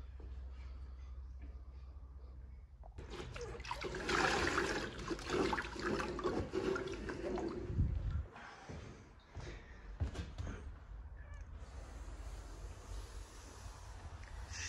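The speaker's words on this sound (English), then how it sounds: "I'm gonna use the washboy and the sponge and wring as much water out as I can" Water splashes and trickles as a wet sponge is wrung out over an interior limestone floor during cleaning, in loud uneven bursts after a quiet start, ending in faint dripping.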